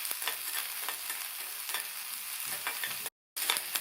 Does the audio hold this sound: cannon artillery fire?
no